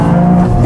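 A Toyota GR Yaris engine revs hard under heavy throttle, a loud, close, sustained drone that stays strong through the brief moment.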